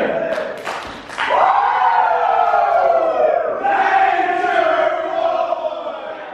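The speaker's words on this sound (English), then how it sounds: "Can I get two claps and a Ric Flair?" Wedding reception crowd answering a mobile DJ's call with loud shouting and a sustained group whoop, preceded by a couple of sharp claps; dense, close and energetic, with no speech over it.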